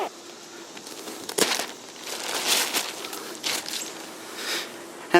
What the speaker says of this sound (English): Like I said, it uses a zipper.